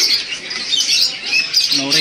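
A Nuri Ambon lory at a bird market gives harsh, bright squawks and chirps in a continuous close stream, with a short lower call near the end and chatter from nearby birds.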